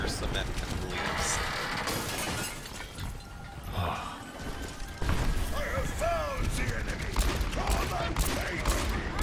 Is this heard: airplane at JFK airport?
no